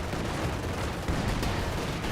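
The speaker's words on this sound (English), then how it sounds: "The Cannon gets a hit as well." Tank cannon fire in a Company of Heroes 2 battle arrives as a dense, rumbling barrage of booming shots blending into continuous loud battlefield noise.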